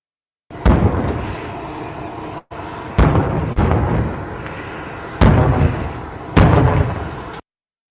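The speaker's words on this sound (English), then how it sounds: "that is audio of cannons being fired off upon Trump touching down and descending the staircase from Air Force One" Ceremonial cannons fire a salute as Trump arrives and descends from Air Force One, about five loud booms at irregular intervals, each followed by a long rumbling decay.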